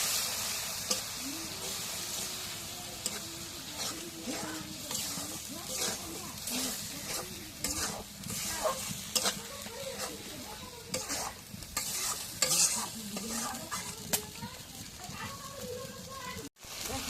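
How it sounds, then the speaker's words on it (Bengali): Ground cumin, garlic, garam masala and ginger paste fry with a steady sizzle while a spoon stirs and scrapes through them in the pan, close and continuous throughout. "মশলাটা কষে নিয়ে গেছি"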